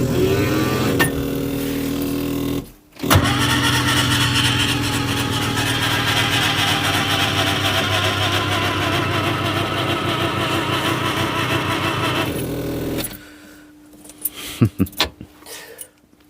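A Skoda Estelle engine that has sat unused turns over and runs, holding a steady, loud idle with a rough mechanical chatter, a brief dip partway through, then cutting off to quieter knocks and clicks.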